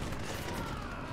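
Machine gun fire in the video game Prototype, a dense continuous burst of rapid shots filling the short moment at steady loudness, with no talk over it.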